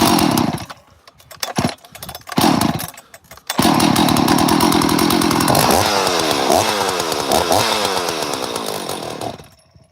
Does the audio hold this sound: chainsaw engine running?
yes